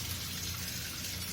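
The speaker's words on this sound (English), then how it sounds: "When I open it, like water start flowing." Water gushing steadily through the inlet valve of a faulty Haier washing machine as the valve is opened, a continuous, fairly quiet hiss and rush with no pauses.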